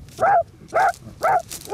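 Hunting dogs bark at a fox den as the digging out begins. Four sharp, evenly spaced barks ring out close by, with nothing else in the way.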